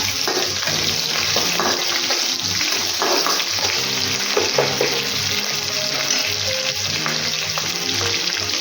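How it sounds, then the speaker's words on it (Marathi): Curry leaves hit a pan of frying grated ginger for upma and set off a steady, loud sizzle with crackles, faint scraping and a light clink or two. "आता यामध्ये आपण कढीपत्ता टाकणार आहोत."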